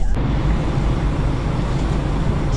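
Sleeper bus engine idling and pulling away from Nha Trang before dawn, a steady low rumble with broadband road hiss, loud and close, no talk.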